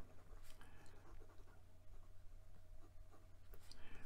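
Pilot Custom 74 fountain pen nib writing on paper, a soft faint scratching with short strokes and pauses, close up and quiet.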